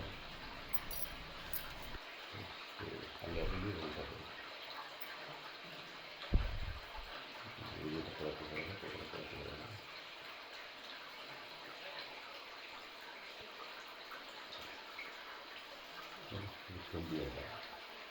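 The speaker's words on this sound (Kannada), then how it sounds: "ಗಣಪತಿ ಪಾದದ ಕೆಳಗೆ ಎಷ್ಟು ಚೆನ್ನಾಗಿ ನೀರು ಉಗಮವಾಗುತ್ತೆ ನೋಡ್ರಿ" Spring water welling up beneath a Ganapati idol at the Kamandala Ganapati temple, source of the Brahmi river near Kesave village, Koppa: a steady, faint trickling flow that runs throughout, with people talking quietly over it at times.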